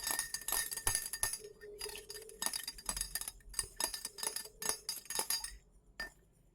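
Glassware clinks sharply and repeatedly as a rod stirs a diluted acetic acid solution in a laboratory, with quick irregular taps close by and no talking.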